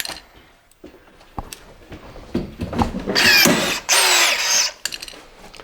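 A power drill bores two holes during a camper van fitting job, two loud, whining bursts of about a second each, separated by a short pause and preceded by scattered clicks and handling knocks.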